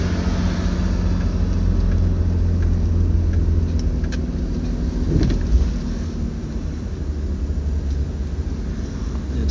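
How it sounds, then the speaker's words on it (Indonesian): A heavy fertilizer transport truck drives along a mountain road toward Dieng, its engine a steady, loud low rumble throughout with a brief swell midway. "Truk pengangkut pupuk CM."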